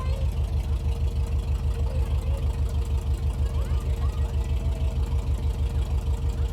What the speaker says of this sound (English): judging by the sound of that engine, it's a bit of a monster, as you would expect from a monster truck